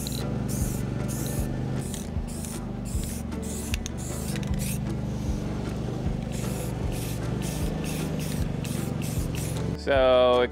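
A spray paint can hisses in many short, rapid bursts, close by, steady for several seconds before a brief different noise at the end.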